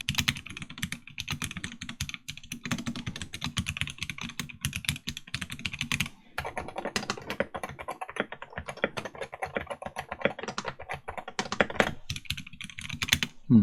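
Rapid, steady typing on a modded Wooting 60HE keyboard, dense clacky keystrokes running nearly continuously and close up, with a brief lull around the middle before the flurry resumes.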